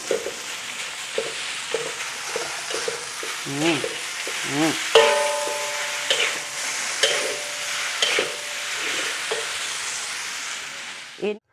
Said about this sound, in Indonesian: ini saya masukkan bihunnya